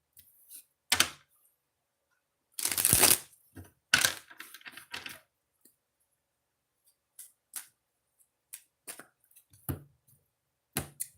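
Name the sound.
shuffling oracle cards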